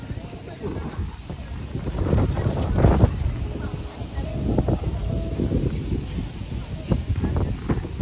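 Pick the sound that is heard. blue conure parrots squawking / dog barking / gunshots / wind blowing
wind blowing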